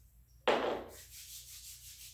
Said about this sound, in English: starting with a little bit of lavender oil and then just rubbing that